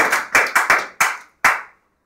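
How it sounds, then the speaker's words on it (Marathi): An audience claps in appreciation of a foundation at a community event. The claps come in a few short, sharp, close bursts that stop and start over about two seconds before the room falls silent. "आपण जोरात टाळ्या वाजवूया"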